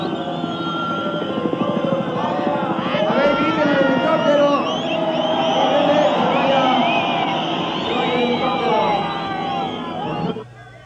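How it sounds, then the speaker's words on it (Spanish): A helicopter drones overhead above a large outdoor crowd at the 1971 Avándaro rock festival, its steady rotor noise blending with crowd hubbub and cheering while someone speaks loudly over a public address system. "Eso del helicóptero, que se levante por favor y que se vaya."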